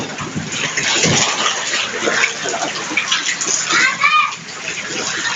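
Flood water is cleared out of a flooded home during a storm, with splashing and sloshing water running throughout while people talk over it.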